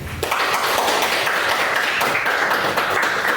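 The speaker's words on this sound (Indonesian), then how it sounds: "Kita beri aplaus dulu." Classroom applause from a group of students, a steady dense patter of clapping hands that carries evenly through the whole stretch, close and fairly loud, with no one talking over it.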